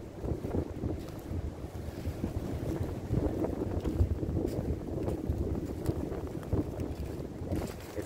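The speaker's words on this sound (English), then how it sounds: "We got a mighty rushing wind coming through here." Strong rushing wind sweeps through an outdoor spot, buffeting the microphone in a constant close roar with gusty surges, no voices over it.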